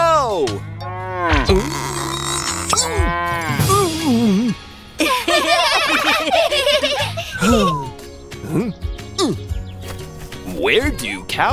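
A cartoon cow gives loud, drawn-out moos, mixed with baby giggles and laughter and some talking voices, all close and clear.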